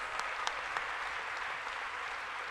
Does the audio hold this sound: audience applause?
yes